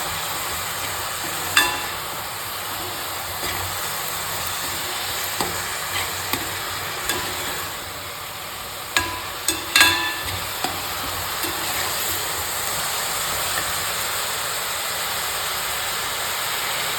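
Ginger garlic paste fries in a pan for a spicy chicken curry, a steady hissing sizzle broken by a few sharp clinks and stirring scrapes, with no voices.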